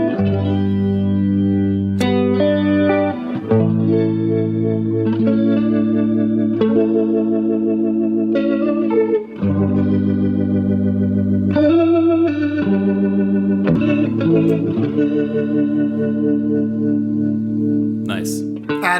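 Electric guitar played through a rotating-speaker effect like a Hammond organ's, chords warbling and swirling with a chorus-like shimmer, loud and continuous with brief breaks between phrases.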